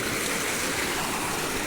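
River water rushes steadily at a crossing near Dangiri Waterfall, a dense, continuous broadband flow with no break, close and loud with no voices over it.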